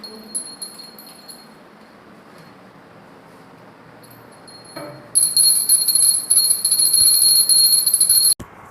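Hand bell rung during a Hindu puja at home, a bright sustained ringing that starts suddenly partway through and continues steadily for several seconds over a quiet room before stopping abruptly.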